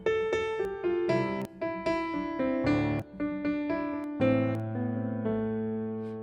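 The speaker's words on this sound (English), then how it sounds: "with the chords on your left hand together, it's gonna sound like this" A piano melody from "Carol of the Bells" rings out over sustained low left-hand chords, notes moving stepwise with a gentle, flowing rhythm and a soft decay at the end.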